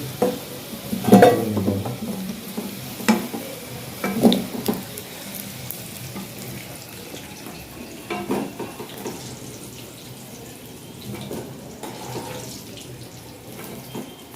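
Potatoes being stirred as they fry with salt and turmeric, a spoon scraping and turning them in the pan with soft sizzling; the stirring comes in a few distinct bursts early on, then settles into a quieter steady fry.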